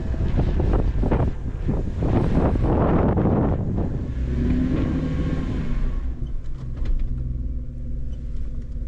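Strong wind buffeting a microphone at an exposed spot just above the water while camping, a loud low rumbling roar with gusty surges that eases somewhat toward the end, no talking.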